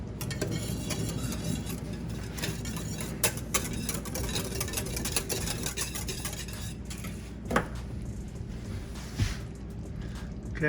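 A whisk scrapes and clinks against a pot while stirring rib sauce heating toward a boil, busy rapid metallic stirring, close and continuous without talk.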